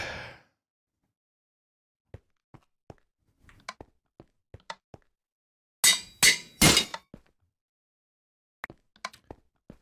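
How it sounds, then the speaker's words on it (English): A Minecraft anvil falls onto a pressure plate in a redstone dispenser setup, giving a dense burst of three loud metallic clanks close together, surrounded by scattered faint clicks and taps. "It dropped as an item, not as a full anvil when it hit the pressure plate."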